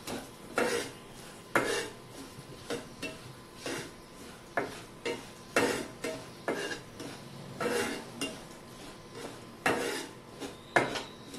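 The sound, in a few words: frying dry fruit pieces on low flame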